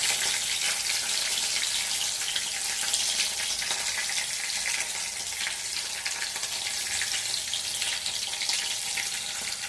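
Steady hissing sizzle of food in hot oil, continuous and fairly close, with no voices.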